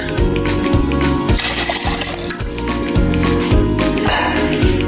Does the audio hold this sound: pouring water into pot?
yes